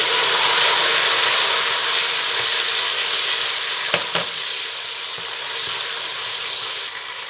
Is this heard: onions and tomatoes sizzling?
yes